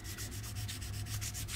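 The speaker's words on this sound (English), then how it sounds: "I'm going to take out the rough sanding marks" Sandpaper rubbed back and forth over a model kit display stand, a steady scratchy sanding with evenly repeating strokes, close and alone.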